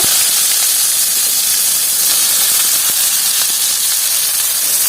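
Onions hit hot oil with cardamom, cloves, cinnamon and cumin, setting off a loud, close, unbroken hissing sizzle that fills the whole stretch.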